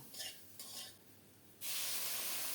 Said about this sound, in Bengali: আবারও নেড়ে চেড়ে কিছুক্ষণ ভেজে নেব